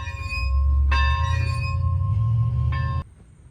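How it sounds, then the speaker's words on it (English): Antique bell rung outside a log building at a history center, two strikes about two seconds apart ringing with long sustained metallic overtones over a low steady rumble of nearby highway traffic. "I had to ring this bell."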